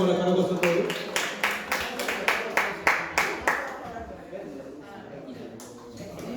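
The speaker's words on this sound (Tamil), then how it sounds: "வரவேற்றுக் கொள்ளுங்கள் ஒரு முறை உற்சாகமான கரகோஷத்தோடு." An audience at a book launch event in Beverwijk claps to welcome a speaker, with a quick burst of individual handclaps that rings out and then fades as a voice talks over it.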